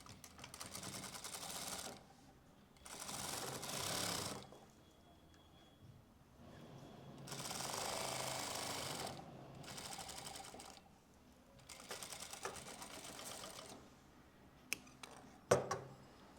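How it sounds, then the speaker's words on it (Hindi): Sewing machine running in several separate bursts of a few seconds each, stitching the seam of bellbottom trousers, with short pauses and small handling clicks between runs; no talking. "तो इसको तो हम साथ के साथ ऐसे ही नीचे से सिलाई लगा देंगे"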